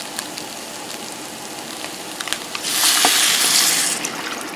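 Water pours steadily into a cooking pot for a couple of seconds, a bright splashing gush after some light clinks and handling sounds, while making jambalaya.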